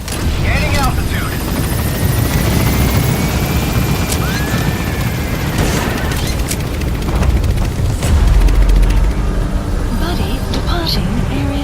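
The Pequod helicopter in Metal Gear Solid V gains altitude with a loud, continuous rotor and engine roar while radio-style voices talk over it.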